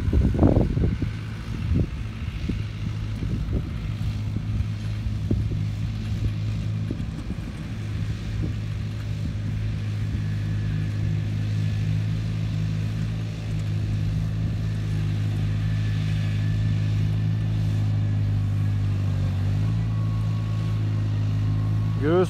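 A New Holland TR6120 tractor engine labours under load while pulling a 4.5-metre İlgi leveller in a field, shifting down as it strains; a steady, loud low drone with occasional knocks and a change in pitch near the end.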